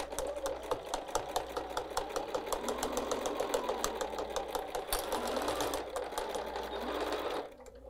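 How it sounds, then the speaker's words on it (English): A sewing machine stitches fabric at a fast, even rhythm, its motor humming with quick mechanical ticks, then stopping abruptly at the end. "I'll see you over at the sewing machine in just a moment."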